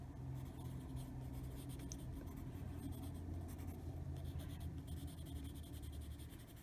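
Neon pink Prismacolor Scholar colored pencil scratching steadily across paper in an adult coloring book, a continuous soft scribbling close up with no talking.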